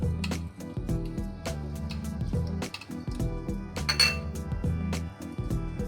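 A spoon clinks and scrapes against a bowl while dahi phulki ingredients are stirred together, giving a steady run of close, light metallic taps and soft squishes.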